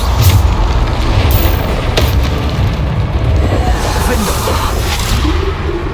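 Loud, continuous booming blasts from the Bombarda spell in Hogwarts Legacy during a combat trial, a dense rumbling roar with sharper bursts layered on top.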